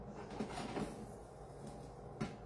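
The door of an air fryer oven is closed with a pizza pan inside, giving a few soft clunks and a light thud over a low hum, fairly faint.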